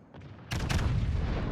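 Heavy battleship main-gun salvo in World of Warships, the Musashi firing: a sudden loud booming blast that starts partway through and rolls on as a sustained, rumbling barrage.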